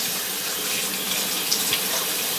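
Tap water runs steadily into a sink for rinsing the mouth during a morning routine, giving a continuous close-up hiss and splash with no voices.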